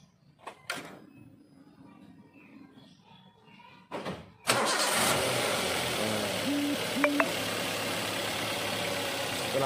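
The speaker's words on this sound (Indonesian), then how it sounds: "Kita starter dulu mesinnya." A car engine cranks and starts partway through, then settles into a steady, close idle that runs to the end, with a pair of brief higher tones near the end; a door-like knock and quiet handling noises come first.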